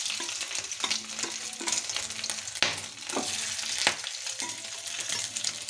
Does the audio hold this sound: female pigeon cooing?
no